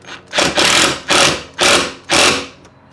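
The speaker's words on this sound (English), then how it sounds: "So now I'm gonna send this bolt home back into the jack nut with the extension on it." A bolt is driven into a jack nut with a ratchet and extension while fitting a rear diffuser on a 2022+ Subaru WRX, heard as four loud, close bursts of rapid ratcheting clicks with short pauses between them.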